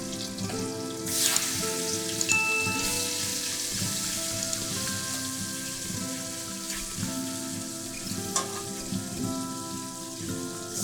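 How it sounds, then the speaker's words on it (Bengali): Prawns frying in fried-chilli oil in a large wok, a steady close crackling sizzle with scattered louder pops and spits running throughout, no one speaking. "ভাজা মরিচের তেলে মাছটা ভাজলে স্মেলটা ভালো আসবে।"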